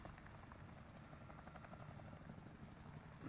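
Helicopter in the video game Warzone, a continuous droning rotor hum with rapid fluttering pulses, steady and moderately loud throughout.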